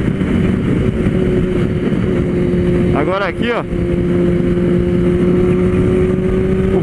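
Kawasaki Ninja ZX-10R engine while riding, a loud continuous drone with a brief rising-and-falling rev burst midway, someone talking over it.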